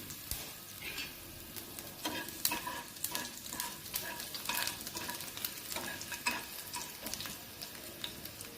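Finely chopped garlic fries in tempering oil for an okra palya, a continuous faint crackling sizzle dotted with quick stirring clicks from a utensil against the pan.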